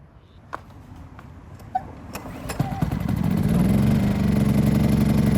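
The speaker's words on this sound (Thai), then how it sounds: "จะสตาร์ทิ้งไว้ประมาณ 5 นาที เพื่อให้น้ำมันเครื่องมันร้อน" A portable generator engine for a motorhome cranks with a few sharp clicks, catches and settles into a steady, loud, close idle hum that builds over the final seconds.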